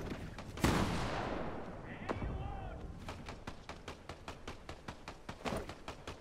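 A turret in a video game firing rapidly, a loud blast followed by a long train of evenly spaced sharp shots, with excited voices talking over the gunfire.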